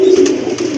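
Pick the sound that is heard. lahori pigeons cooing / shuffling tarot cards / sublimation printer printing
lahori pigeons cooing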